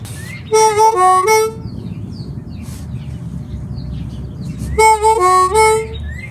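Harmonica plays a wavy 2 blow then 2 draw phrase, a quick run of bending reedy notes heard twice, close and clear, with a quiet gap between the two bursts.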